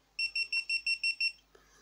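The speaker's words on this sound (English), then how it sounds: "When stopping the camera you will hear more beeps" Seven short, evenly spaced electronic beeps in quick succession from a GitUp Git1 action camera shutting down, clear and close, then a small click as it falls quiet.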